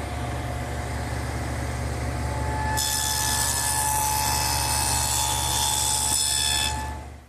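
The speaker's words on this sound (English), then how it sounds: "Now, to make that dado, I've just widened the dado head cutter to 1/2 inch, and I'm ready to run the sides through" Table-saw dado head cutter set half an inch wide cutting dadoes across wooden chair sides: a steady machine hum, then a loud, sustained cutting whine for about four seconds before it eases off.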